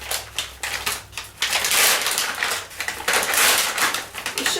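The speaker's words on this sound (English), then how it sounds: "First off, we want to open the package of the subcu fluids." A plastic package of subcutaneous fluids for a cat is ripped open close by, a series of sharp, crinkly tearing bursts with brief pauses between them.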